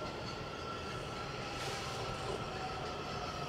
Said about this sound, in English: Over there's the Metro Rail just pulled in.